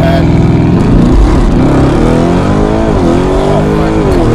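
A Lamborghini Urus fitted with a Novitec exhaust revs at full throttle with the brake held, a loud, close, sustained engine roar whose pitch rises and falls.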